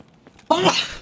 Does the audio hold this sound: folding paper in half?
no